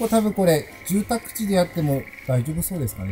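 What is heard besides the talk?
frogs croaking outdoors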